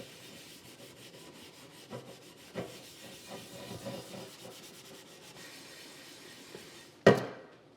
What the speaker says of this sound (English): And now, Barkeeper's Friend and scrub.